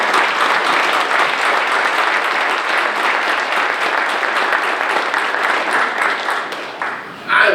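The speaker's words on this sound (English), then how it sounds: "Please join me in giving a thankful round of applause to Rockdale County great public safety staff." Audience applause for Rockdale County public safety staff at a State of the County morning session: steady, dense clapping from a large crowd for about seven seconds, then a brief dip and a short final burst.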